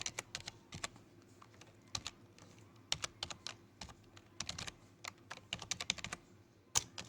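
Rapid, irregular keystrokes on a computer keyboard as a Docker command is entered, close and clear with short bursts and brief pauses, no talking.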